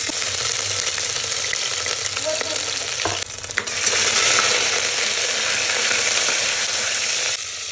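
Ginger garlic paste sizzles in a hot pressure cooker, a constant loud frying hiss with scraping and stirring clatter around the middle, then the sizzle swells briefly before cutting off near the end.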